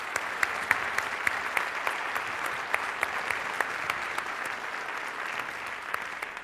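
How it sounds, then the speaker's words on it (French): Audience at the opening ceremony of the Les Arcs Film Festival applauds the festival teams with steady, sustained clapping. Individual claps stand out sharply across the whole stretch, at moderate distance and without talk over them. "j'aimerais bien que vous les applaudissiez"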